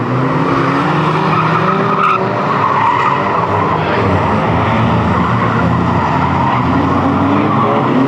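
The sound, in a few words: race car in a trailer race spinning and skidding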